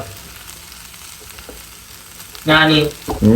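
Food being stirred and fried in a home kitchen pan, giving a soft, even sizzle for a couple of seconds before a voice briefly cuts in over it.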